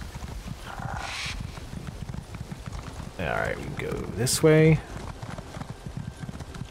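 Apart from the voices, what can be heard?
horse galloping in video game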